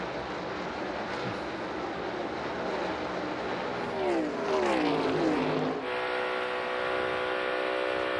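NASCAR Cup Series race cars at the AdventHealth 400 roaring past on track, a steady loud engine drone rising into a sharp passing whine, then holding a high sustained engine tone.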